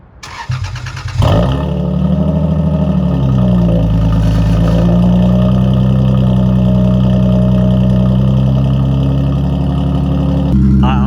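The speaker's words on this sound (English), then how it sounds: "About to get a cold startup of the IS" A car called the IS, loud and unwashed, cold-starts after sitting unused: a brief starter crank, then the engine catches with a flare in revs and settles into a loud, steady, close-up idle.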